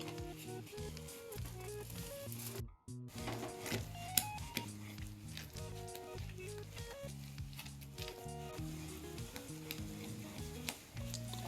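Ground sesame being stirred into thickening sugar syrup, a close bubbling sizzle with rhythmic scraping strokes of a spoon against the pan.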